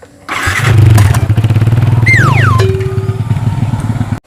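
Motorbike taxi engine starts up and idles loudly close by, a steady low throbbing with a brief rising-then-falling whine partway through.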